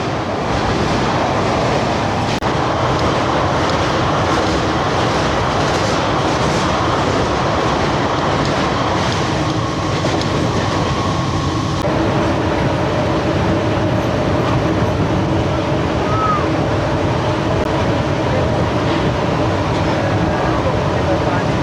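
A Virar–Dahanu local train runs near the Vaitarna river bridge, its loud, steady rumble and rattle filling the whole stretch, with faint voices mixed into the noise.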